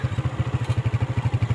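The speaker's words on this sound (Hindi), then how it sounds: "ये छोटे छोटे बच्चे जा रहे हैं बाइक चलाकर।" A motorbike ridden by small children putters past with a rapid, regular, thumping engine beat, fairly close and steady.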